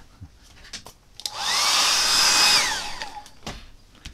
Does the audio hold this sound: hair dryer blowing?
yes